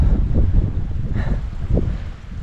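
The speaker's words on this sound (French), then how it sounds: "Il fait beau, il y a juste du vent, ça souffle." Wind blows hard at a mountain lake in the Clarée valley near Névache, gusting in rough waves and buffeting the microphone loudly at close range.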